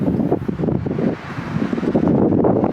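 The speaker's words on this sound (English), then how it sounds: "It's very cool windy today too." Steady gusty wind buffets the microphone on a cool day with snow and spitting rain in South Bend, Indiana, a loud broadband rumble that swells and dips throughout with no voices.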